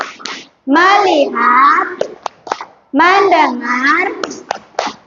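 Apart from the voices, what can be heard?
classroom rhythmic clapping, tepuk fokus clap chant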